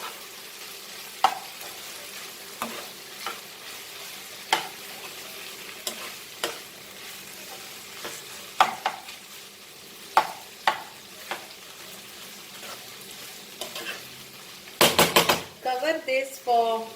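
Goan pork sausages with okra stirred in a pan, a soft sizzle beneath repeated scrapes and clinks of a spoon against the pan, ending in a louder burst of clattering stirring near the close.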